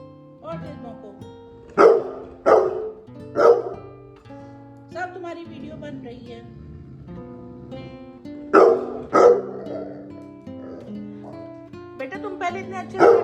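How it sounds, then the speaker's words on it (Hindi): Dog barks in sharp bursts, a pair near the start and another pair later, loud and close, while someone talks to the dog on and off in a home setting. "और तेज भौंको, सब तुम्हारी वीडियो बन रही"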